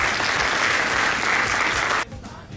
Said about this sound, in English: Everyone, a round of applause for Dr.